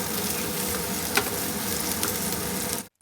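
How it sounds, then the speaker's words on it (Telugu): Ivy gourd pieces fry in oil for a village-style masala curry, giving a steady, close hiss with a few faint stirring taps before a short break near the end. "ఫ్లేమ్ మిడిల్లో పెట్టుకుని మధ్య మధ్యలో కలుపుకుంటూ దొండకాయలు బాగా ఫ్రై చేసుకోవాలి"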